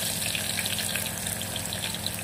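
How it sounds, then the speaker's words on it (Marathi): Onion fries in a pan, browning with a bubbly, watery sizzle full of small pops and crackles, moderately loud and continuous without voices. "कांदा लाल होईपर्यंत भाजणार."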